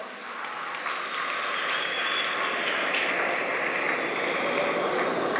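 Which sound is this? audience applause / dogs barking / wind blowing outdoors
audience applause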